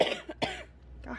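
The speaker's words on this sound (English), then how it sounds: "I cannot stop coughing today" A person coughs several times in quick succession, close and moderately quiet, with no talking.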